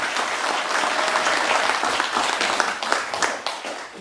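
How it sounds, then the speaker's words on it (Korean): Audience applause from a crowd welcoming a guest at a Korean film premiere and production announcement event, dense steady clapping throughout that thins slightly toward the end. "여러분 박수 크게 쳐주시기 바랍니다."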